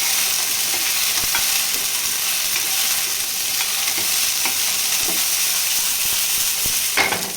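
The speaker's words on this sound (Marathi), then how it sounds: "जरा थोडासा वाटाणा भाजून घ्यायचा, मग छान चव येते।" Fresh green peas roast in a hot pan with a continuous close sizzle, punctuated by occasional scraping stirs and small clinks of a spoon, no voices present.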